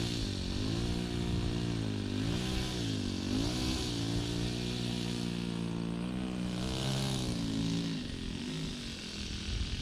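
A SIG Kadet Senior model airplane engine buzzes on a landing approach, its pitch rising and falling as the throttle is worked, loud and continuous throughout.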